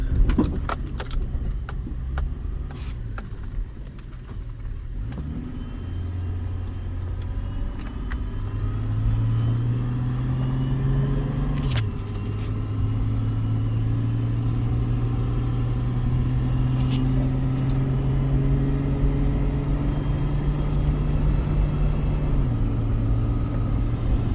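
A 2003 Chevy Trailblazer engine drones steadily while driving uphill, its pitch rising and shifting with gear changes, heard from inside the vehicle with occasional light rattles.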